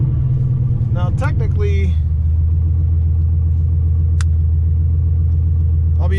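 A Ford Foxbody with a stock-block GT40 engine, big injectors and an On3 turbo idles steadily as it warms up, a loud continuous low rumble, with someone talking over the start.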